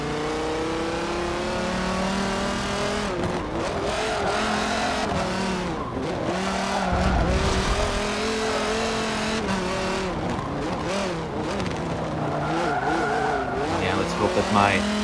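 Race cars at Sonoma Raceway in Forza Motorsport 7 roar loudly on a final lap, their engines rising and falling with each gear change and corner, with bursts of tire squeal and a voice talking over the continuous racing noise.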